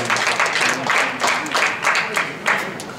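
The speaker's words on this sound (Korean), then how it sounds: "박수 한번 주세요" Concert audience applause in a large performance hall, steady clapping from a crowd filling the whole stretch, with swells and a few louder claps.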